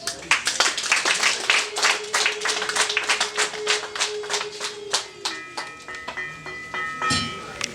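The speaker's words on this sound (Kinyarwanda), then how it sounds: "kandi babambera amashyi menshi cyane" Guests clapping at a Rwandan wedding dowry ceremony, a loud, uneven burst of individual handclaps in a brisk rhythm that gradually thins out, with a sustained tone and some voices in the background.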